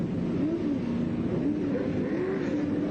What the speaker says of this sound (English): Up come the engine revs.